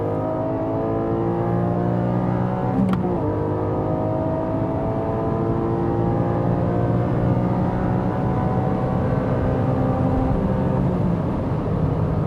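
A Porsche 718 GTS 4.0 six-cylinder engine pulls hard on track, its harmonics sweeping upward through the gears with a brief shift break near the start, loud and close with a constant mechanical roar and no talking.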